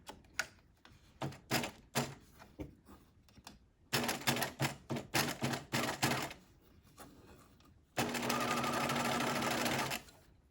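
Sewing machine sewing a half-inch seam on a welt pocket, first in short stuttering bursts of a few stitches, then a faster choppy run, ending in a steady two-second hum, close and loud without talking.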